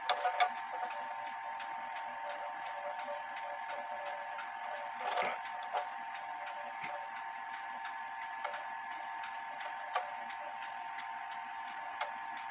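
A cuckoo clock's pendulum ticks in an even, steady beat, with regular sharp ticks repeating across the clip over a constant mechanical hum, fairly close and moderately loud.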